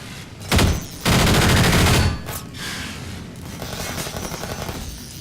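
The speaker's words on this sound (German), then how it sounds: "wo kommen jetzt die Schüsse her?" Bursts of rapid gunfire in the video game Half-Life 2, two loud sustained volleys followed by quieter crackling shots further off.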